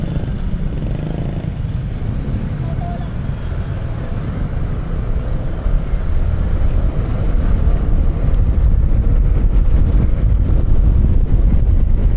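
Strong wind in rainy weather buffets the microphone in a continuous heavy roar, growing louder midway, with the low rumble of a Fortress 160's four-valve engine beneath.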